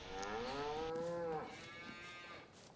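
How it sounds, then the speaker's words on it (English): A cow in the Farming Simulator 22 video game lets out one long, loud, close moo that holds steady and then trails off into a fainter tail, with no talk over it. "I hear you, cow."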